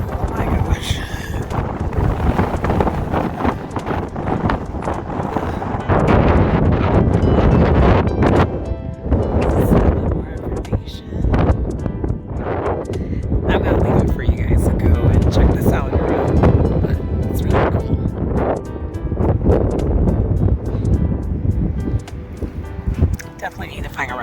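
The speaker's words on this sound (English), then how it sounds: "And it's so windy." Strong wind buffets the microphone in a constant low roar, with a person talking over it throughout.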